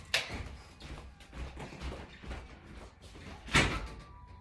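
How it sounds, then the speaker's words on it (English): A front door is pushed shut at home, giving a sharp knock near the start and a louder, heavier thud a few seconds later, with rustling and movement noise in between. "I'm gonna close this door."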